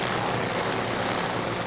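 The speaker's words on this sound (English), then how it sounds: "the crewman starts the engine for Shiro Greer" A 1970s drag racing car's engine, started by a crewman at the 1976 NHRA Gatornationals, roars loud and steady throughout, a dense, continuous blast of engine noise with no talk.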